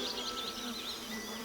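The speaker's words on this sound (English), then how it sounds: "It is surrounded by dozens of small wasps." Dozens of small parasitic wasps swarm around a butterfly chrysalis, giving a continuous, close, high-pitched buzzing whine with wavering pitch and no other sounds.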